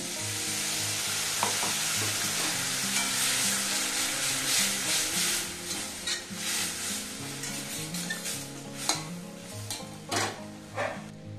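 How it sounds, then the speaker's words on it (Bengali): Spice paste frying in a pan with a splash of water for a cauliflower and egg curry, sizzling loudly and steadily close up, with repeated spatula scrapes and stirring knocks against the pan. "মশলাটা প্রায় ভাজা হয়ে গেছে।"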